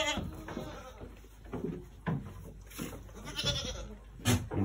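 Goats bleat several times nearby amid farmyard shuffling, with a person talking quietly in between.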